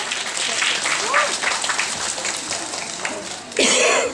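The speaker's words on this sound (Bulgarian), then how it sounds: "Аплодисменти за него!" An audience at a Bulgarian dance competition applauds with a busy clatter mixed with a few voices, swelling into a louder burst near the end.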